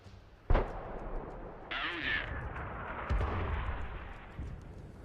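Artillery gun firing in World of Tanks on console: a sharp, loud blast opens the clip, followed by rumbling engine and battlefield noise with further dull thuds, some background noise throughout.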